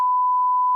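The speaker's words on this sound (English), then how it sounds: "that's getting beeped out" A steady pure censor bleep tone, loud and unbroken for just under a second, cutting off abruptly at the end.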